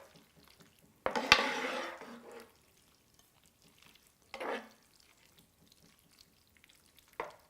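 A spoon stirs cheesy homemade hamburger helper with freshly shredded, melting cheese in a single pot, giving a scraping burst followed by two shorter strokes separated by near silence.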